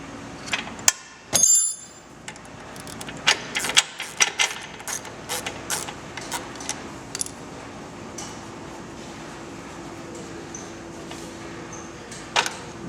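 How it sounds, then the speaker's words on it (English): A socket wrench works a 10mm shift rod bolt out of a transmission, giving scattered metallic clicks and ratchet ticks up close, with a brief louder clank near the start and quiet gaps between. "Like I say, you can use a socket or a wrench here,"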